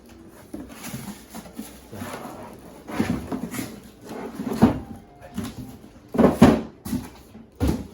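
Cardboard and plastic rustle, with scattered thumps and scraping as the accessory box of an office espresso machine is handled and opened up close.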